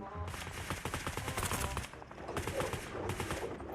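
Rapid automatic gunfire in the online shooter game Sausage Man, dense repeated shots in fast bursts with a short pause partway through, steady and loud throughout.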